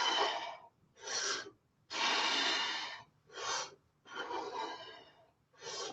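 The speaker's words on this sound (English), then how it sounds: "Inhale and exhale when they're out." Heavy, forceful breathing during a lower abs leg-extension exercise, six close, loud breaths alternating in rough rhythm with short pauses between, each a hissing inhale or exhale, with no talk over them.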